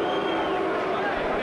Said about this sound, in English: Booing.